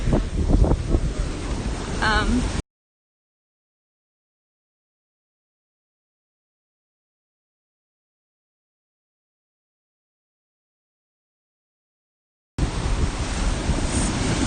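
Surf rolling in on an ocean beach during a stroll, a steady wash of waves with heavy wind buffeting the microphone, heard briefly at the start and again at the end with a long silent gap between.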